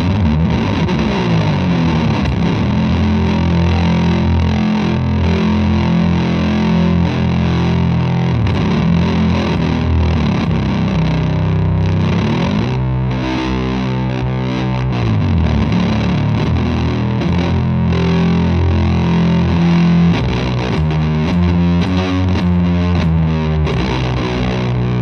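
A heavily distorted electric guitar through a Fuzzlord FU-2 fuzz pedal with the treble turned down, fuzzy and droning with a thick, dark tone, plays sustained chords and riffs loudly and continuously without any talking.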